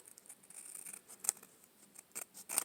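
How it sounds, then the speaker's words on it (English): Scissors snip through paper while cutting out a craft piece, a few quiet irregular cuts with sharp bursts near the end, close and alone with no talk. "I'm going to go ahead and cut this part out. And I'm going to cut around this."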